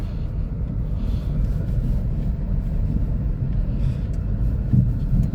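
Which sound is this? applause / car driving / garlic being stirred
car driving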